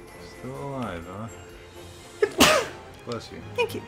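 A person sneezes once, sharply and close by, amid casual talk while playing Mario + Rabbids Kingdom Battle; a burst of voices and short noises follows.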